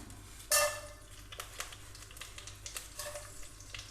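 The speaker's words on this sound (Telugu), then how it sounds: "పోపు దినుసులు, పచ్చిమిర్చి ఇట్లా పొడవుగా కట్ చేసిన పచ్చిమిర్చి, ఉల్లిగడ్డలు, ఇవన్నీ మనం ఆయిల్లోకి వేసేసుకుందాం." Mustard seeds and other tempering spices, long-slit green chillies and onions drop into hot oil for a curry, with a sudden burst of sizzling that settles into a steady crackle and light stirring.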